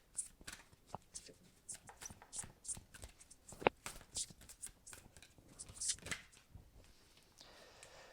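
Tarot cards shuffled by hand during a new moon astrology reading, giving a run of soft, irregular riffling and flicking bursts at close range, with a few sharper snaps, fairly quiet throughout.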